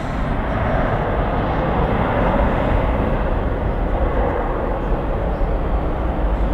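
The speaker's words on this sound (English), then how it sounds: "Wow, Korean Air Flight 31." Korean Air Flight 31 airliner passing at night at Dallas/Fort Worth airport, a steady loud broadband jet roar sustained throughout with no talk over it.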